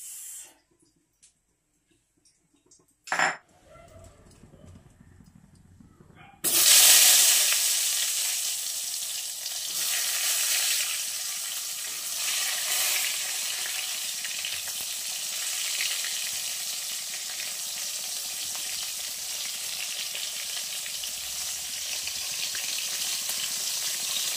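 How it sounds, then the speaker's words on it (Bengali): Eggplant slices sizzle in leftover cooking oil, a steady loud frying hiss that starts abruptly after a few quiet seconds with small clatters, then continues evenly without speech. "এটা দিয়ে বেগুন ভাজা হয়ে যাবে,"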